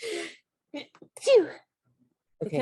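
A single sharp sneeze bursts out in the middle of casual conversation, close and clear, with talking before and after it.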